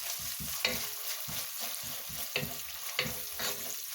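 Garlic and ginger stirred and frying in a pan for a mutton soup: steady close sizzle with rhythmic scraping strokes of the spoon, a few sharper clinks against the pan, no talking.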